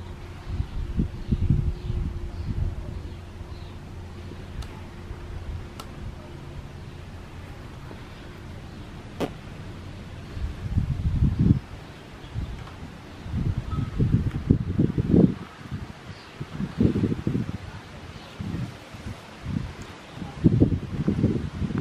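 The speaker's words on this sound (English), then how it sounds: "It's hard to record right now because it's so windy." Strong gusts of wind blow outdoors, buffeting the microphone with low roaring bursts while leaves rustle continuously; the gusts grow stronger and more frequent in the second half.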